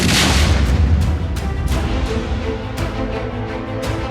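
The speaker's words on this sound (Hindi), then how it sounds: "ये पहला धमाका, ये दूसरा धमाका, ये तीसरा धमाका और ये चौथा।" Repeated explosions and blasts during a security forces' assault on militants in Kokernag, Anantnag, Jammu and Kashmir, a dense rumbling barrage with several sharp bursts over about four seconds, loud and without speech.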